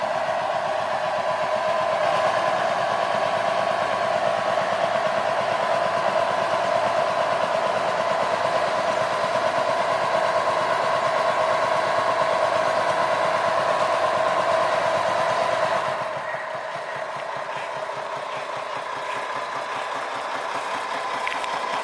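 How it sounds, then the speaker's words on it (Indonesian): A sugarcane railway locomotive at PG Kedawung, on a trial track with rails buried in soil, runs its engine at a steady, loud mid-pitched drone that eases slightly lower near the end, no voices. "lokomotif mulai mencoba berjalan kembali"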